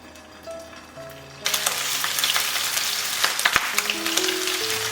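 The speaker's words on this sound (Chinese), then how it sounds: "接着我们来起锅热油，把团好的丸子呢放进来煎。" Pork and beef meatballs for a Hakka beef-and-pork ball casserole drop into hot oil, and a steady close sizzle starts and keeps hissing with small crackles.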